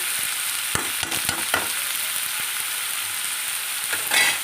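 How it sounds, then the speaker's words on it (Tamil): Onions frying to brown in a pan for dried fish thokku, a bright, dense hiss of sizzling oil with a few scraping stirs and clicks, close and steady with no voices. "நல்லா வந்து ப்ரௌனாக வறுத்துக்கணும் வெங்காயம் வந்து நல்லா ப்ரௌனாக வதங்கினதுக்கு அப்புறமா தான் நாம் தக்காளி சேர்க்கணும்"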